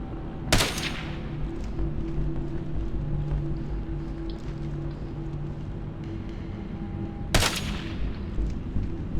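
Two sharp, loud gunshots ring out in Ghost Recon Advanced Warfighter, widely spaced, over a steady low engine-like hum.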